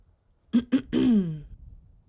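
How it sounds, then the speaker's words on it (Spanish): A man clears his throat: two short guttural catches followed by a longer, falling rasp, close and isolated against silence. "Hawat carraspeó de nuevo."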